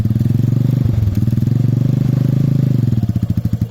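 A motorcycle engine chugs loudly up close as a learner rider shifts into first gear on a hill, a steady low thumping idle that loosens into slower, distinct pulses toward the end.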